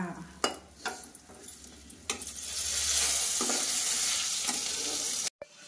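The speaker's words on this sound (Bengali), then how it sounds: "একদম গরমা গরম বেগুন ভাজা" Eggplant slices fry in hot oil with a steady, close sizzle that swells louder midway, punctuated by a few sharp utensil clicks and stirring sounds.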